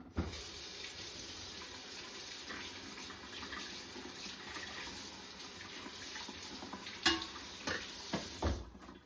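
A kitchen tap runs steadily while bread dough is rinsed off for a no-knead homemade loaf, with a few clinks and knocks near the end.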